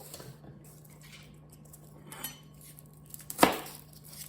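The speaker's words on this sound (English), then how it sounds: "Just cut the ends off, and that kind of helps peel the skin." A kitchen knife cuts the ends off garlic cloves on a board while grilling steaks, giving a few quiet taps and one sharp, close chop near the end against a low background hum.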